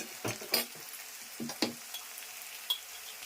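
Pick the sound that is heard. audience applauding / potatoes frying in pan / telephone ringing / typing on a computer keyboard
potatoes frying in pan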